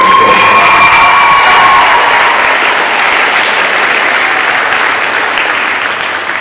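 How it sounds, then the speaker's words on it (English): A crowd in a Memphis high school gym bursts into loud applause, cheering and whoops to welcome speaker Big Randall, a dense sustained roar with young voices shouting that slowly fades toward the end. "give him a nice round of applause for Big Randall"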